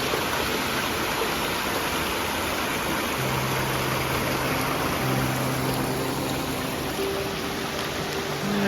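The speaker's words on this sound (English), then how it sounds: "The cascade just coming out of the Smokies. Well, that's what I call a cascade." A cascading waterfall tumbles out of the Smoky Mountains along the Appalachian Trail, a steady, loud and dense rush of water with no break.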